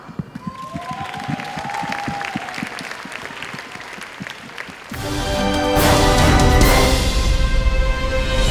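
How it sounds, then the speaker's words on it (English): Warm audience applause swells at a library-mission presentation in India, starting as scattered claps and building into dense, sustained clapping that grows louder and fuller toward the end. "Let's welcome them with warm applause."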